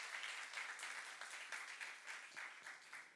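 Church youth congregation clapping in praise during a sermon; soft, distant but sustained applause of many hands, evenly textured across the whole stretch.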